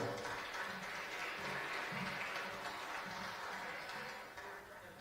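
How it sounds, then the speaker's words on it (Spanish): Steady, fairly faint audience applause at a lecture in Paraguay, continuous clapping from a crowd heard from some distance, with no speech over it. "Un aplauso."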